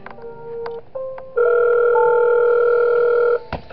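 An in-game phone call ringing in the horror game Five Nights at Wario's, a loud steady electronic telephone tone held for about two seconds after a few short beeps, then cut off with a click.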